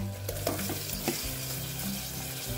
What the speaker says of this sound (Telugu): దీన్ని ఇలానే ఒక 5 నిమిషాలు హై ఫ్లేమ్లోనే ఆయిల్లో ఈ విధంగా ఫ్రై చేసుకుందాము